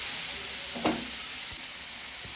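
Vegetables for veg spring rolls fry and sizzle in a pan over a high gas flame, a steady hiss with a brief stir or clatter partway through and no talking.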